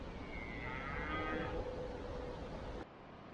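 Cows mooing in the Kent countryside: one drawn-out low moo in the open air over steady wind noise.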